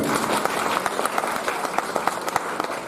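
An audience applauds for children at a public gathering, giving a dense, steady run of handclaps with a few sharper claps standing out, heard at moderate distance.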